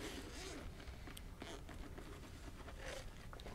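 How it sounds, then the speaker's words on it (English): Zippers on a drone carrying case being pulled open, close and quiet, with a few short scraping zips separated by soft handling rustles. "open up with the zippers"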